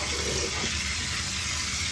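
Water rinsed and dumped into a wash basin during a partial bed bath, heard as a steady close splash and pour that fills the short moment on its own.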